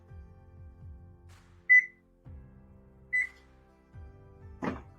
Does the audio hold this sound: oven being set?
yes